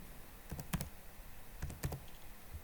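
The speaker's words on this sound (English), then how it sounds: "I will now type John" Keyboard typing while entering an email address into a cloud point-of-sale login screen: two short bursts of a few quick keystrokes each, fairly faint and close, with no talk.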